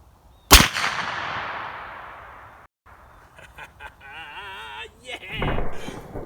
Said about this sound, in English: So we'll set it with the rear trigger, and we'll go fire this.